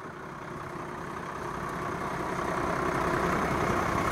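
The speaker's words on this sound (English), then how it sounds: "It's got the hydraulic leveling jacks at work, running right now." Hydraulic leveling jacks run on a 1997 Gulfstream Tourmaster Class A diesel motorhome, making a steady mechanical hum and whine that slowly rises in loudness over the clip, with no one talking.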